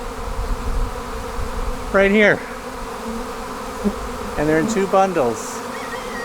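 A honey bee swarm fills an apiary with a steady, dense buzz of many insects, while someone talks briefly near the recorder.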